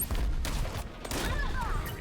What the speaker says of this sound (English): Let's actually bring a shotgun to a sniper fight.